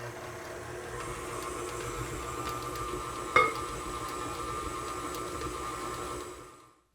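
Electric mixer running on low-medium while beating butter, sugar and eggs, a steady whirring hum with a brief clack partway through before it fades out at the end.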